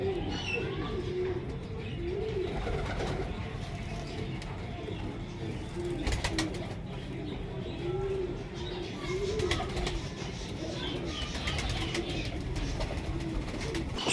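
Pigeons in a loft, flying and breeder birds, cooing repeatedly in soft rhythmic phrases throughout, close by and moderately quiet over a background murmur.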